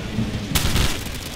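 Steady rain hisses while a low roll of thunder swells briefly, with no voices, in the video game Call of Duty.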